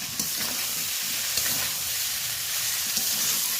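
Fried potato, eggplant and papaya pieces hit a hot pan of oil for a spinach curry, bringing a loud, steady, hissing sizzle with a few scraping stirs, close up and without talk.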